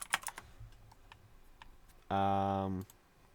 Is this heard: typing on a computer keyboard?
yes